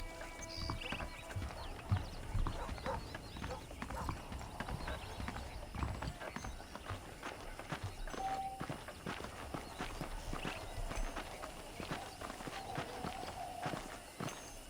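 Steady clip-clop of horse hooves walking at a regular pace in Red Dead Redemption, with occasional creaks and faint ambient noise throughout.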